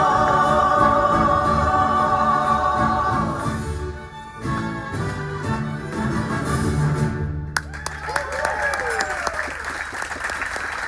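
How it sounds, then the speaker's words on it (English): Big round of applause from a restaurant audience for Latin music performers aboard a Disney cruise ship, sustained dense clapping with crowd noise, easing midway then surging again, with a host's voice over it near the end. "Un fuerte aplauso, a big round of applause for our friends."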